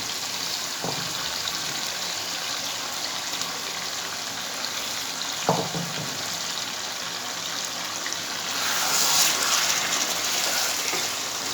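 Fried potatoes are tipped into masala chicken cooking in a pan, a steady close sizzle broken by two soft thuds and swelling into a louder rushing hiss near the end.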